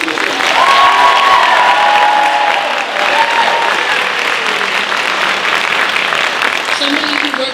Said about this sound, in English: So one more big round of applause for Mr.